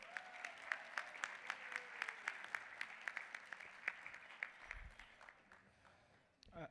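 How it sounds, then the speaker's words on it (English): Audience applause at a convention luncheon, sparse but steady clapping from a seated crowd in a hall, moderately faint, tapering off near the end. "I want to give one more round of applause to ADC for this great convention so far."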